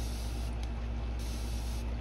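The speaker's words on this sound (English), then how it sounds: "spray alcohol," Alcohol is sprayed from a bottle onto freshly poured resin to pop bubbles, a close, steady hiss that runs continuously with slight pulses in strength as the nozzle is pumped.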